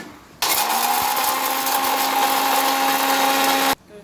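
A blender grinds roasted peanuts into powder, a loud steady motor whir with a constant pitch that starts abruptly, runs for about three seconds and cuts off sharply.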